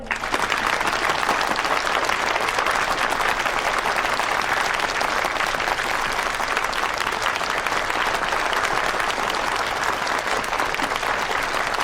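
An audience applauds steadily to welcome a high-school student speaker at an ocean-issues forum. The clapping is dense, sustained and even throughout, with no talking.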